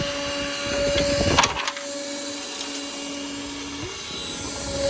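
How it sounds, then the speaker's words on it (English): A DeWalt 20V cordless ash vacuum runs steadily, sucking up fireplace ashes with a droning motor whine; a brief rattling burst of debris passes through the hose early on, then the hum continues close and loud without talk. "I'm gonna turn this on, and we're gonna suck some of these ashes out and see how it does."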